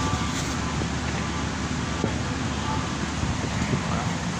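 Wind blows outdoors as a steady broadband rush buffeting the microphone, continuous and fairly loud for several seconds with no clear talk.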